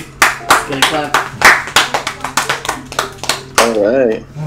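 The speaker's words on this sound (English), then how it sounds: "Gonna clap." Hands clapping in a home setting, a quick run of about a dozen sharp claps at uneven pace, with a voice exclaiming near the end.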